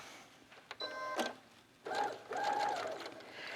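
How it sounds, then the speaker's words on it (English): A sewing machine stitches a gusset seam toward the underarm in two short runs, with a brief pause between them, close and fairly quiet. "So we'll sew right up to the seam at the underarm."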